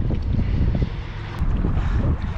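Wind gusts across the Delaware River in the Catskills during a fly-fishing outing, a continuous low rumbling buffet against the microphone that swells and eases briefly, with no voices.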